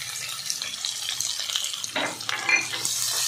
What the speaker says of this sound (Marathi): छान असा कांदा परतून घ्यायचा.